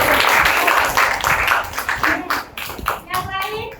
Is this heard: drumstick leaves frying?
no